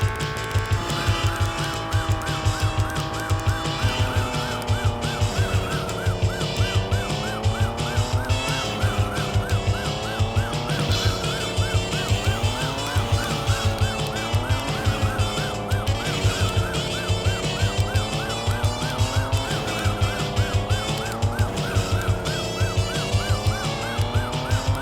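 Racing car engine from the FM Towns version of Chase HQ, with a synthesized motor whine rising and falling through gear shifts over a pulsing music track, loud and continuous.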